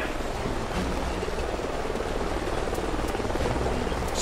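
A helicopter flies up ahead over canyons in the video game Call of Duty Ghosts, its rotor producing a steady, continuous whirring roar with no voices over it.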